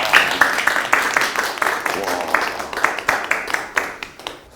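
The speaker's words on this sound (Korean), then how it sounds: "박수 한번 주세요" A small gathering at a company event claps briefly, a few rhythmic, close claps over room noise, with a voice speaking over part of it.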